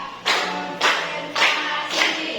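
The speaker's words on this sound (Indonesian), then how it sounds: "Tepuk satu, tepuk dua, tepuk tiga, tepuk empat" A classroom of students claps together in a counted rhythm, four sharp group claps spaced evenly about half a second apart, close and clear.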